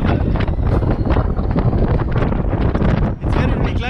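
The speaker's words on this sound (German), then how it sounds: "weil der Wind so laut ist." Strong wind roars steadily across the microphone of a fast-moving rally car on a 13 km Mallorca course, loud and continuous throughout, with the roar dipping briefly near the end.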